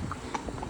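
Horses hacking out along a main road clip-clop with hooves on the hard surface, a few quick irregular strikes over a steady outdoor background, moderately close.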